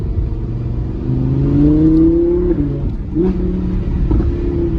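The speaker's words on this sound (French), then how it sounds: "Regarde, là j'accélère. On sent que ça accélère" An Audi R8 with 610 hp accelerates on cold tyres, its engine note rising loud and close, easing off briefly before climbing again.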